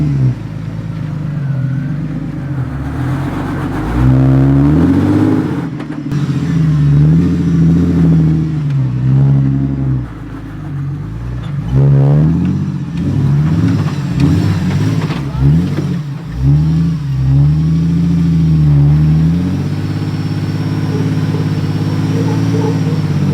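A 4x4 off-road vehicle in first gear with both lockers engaged grinds up a steep mountain track, its engine droning loud and close with repeated revving surges, and people talk at times over the noise.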